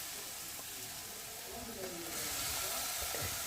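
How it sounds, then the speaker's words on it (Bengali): A paste of ginger, garlic, tomato and green chilli sizzles and hisses in a hot pan, growing louder near the end, with some faint background speech. "আদা, কাঁচা লঙ্কা, টমেটো, রসুন ইত্যাদি যে বাটাটা ছিল সেটাও ওর মধ্যে দিয়ে ভালো করে কষিয়ে নেব"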